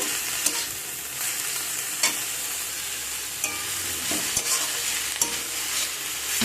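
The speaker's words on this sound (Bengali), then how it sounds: "কপি শাকের সাথে রসুন পেঁয়াজ লঙ্কা ভালো করে নেড়ে ভাজা ভাজা করে নেব" Cauliflower greens stir-fried with garlic, onion and chilli sizzle steadily in a pan, with a spoon scraping and stirring in occasional sharp knocks, close and continuous with no talk.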